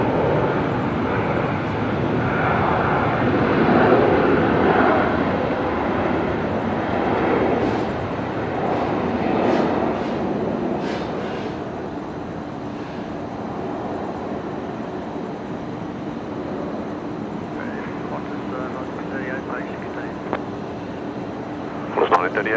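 An Airbus A380 arriving on runway 01 right at Brisbane Airport at twilight gives a broad jet roar that swells and then gradually fades, heard at a distance with people talking over it.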